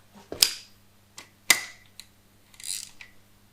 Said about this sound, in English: I need to use a bigger ratchet